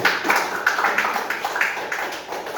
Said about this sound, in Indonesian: Tepuk tangan untuk teman ini